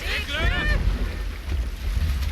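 A sailing ship at sea in the video game Assassin's Creed Valhalla, with a steady low rush of wind and water under a brief voice at the start, loud and continuous.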